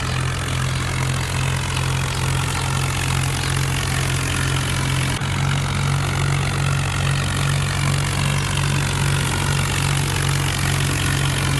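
A tractor engine idling steadily at night, a loud continuous low rumble with an even throb and no voices.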